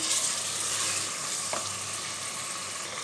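Mutton frying in a pot with onion, garlic-ginger paste and cumin, a continuous close sizzle with a brief stir of a spoon partway through, no talk.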